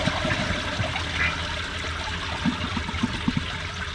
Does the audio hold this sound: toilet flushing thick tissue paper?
yes